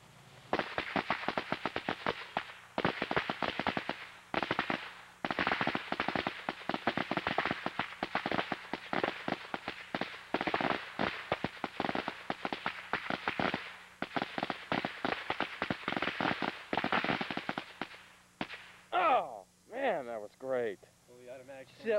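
Fireworks explode outdoors in a dense, rapid barrage of sharp cracks and bangs, loud and continuous for most of the stretch, with people's voices and excited cries breaking in near the end.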